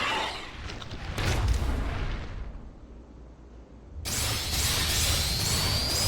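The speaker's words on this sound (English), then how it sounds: "I do think that's an awesome explosion thing" A large explosion in the video game Trials of Mana, a loud booming burst with rumbling noise that fades, then a bright, hissing, shimmering magical effect surges in and continues to the end.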